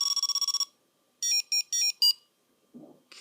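Electronic death jingle from a Game & Watch Super Mario Bros handheld: a rapid run of about ten short beeps, a pause, then four longer high tones, close and clear, followed by a brief murmur.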